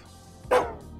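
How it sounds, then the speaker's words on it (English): A small white dog in the video game Psychopomp gives a single short, sharp bark, close and clear against a quiet background. "Talk to the doggy. Small white dog."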